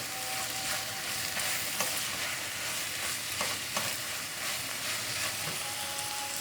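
Continuous crackling sizzle of okra masala frying in a pan as sliced tomatoes go in, with a few light scrapes and clicks of stirring.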